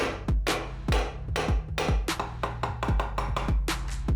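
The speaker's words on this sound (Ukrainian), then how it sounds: "на чомусь твердому розплющуємо метал ударами молотка" Repeated hammer blows flattening a small nail piece on a hard surface while repairing an old lighter's wheel, a steady run of sharp, close metallic strikes with brief ringing tails, loud and without talk.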